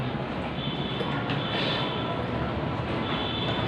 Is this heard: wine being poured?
no